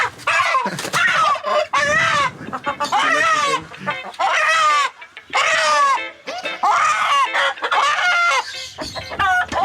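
Desi chickens cluck and squawk loudly in repeated bursts, with a rooster-like crow among the close, busy calls, on a farm.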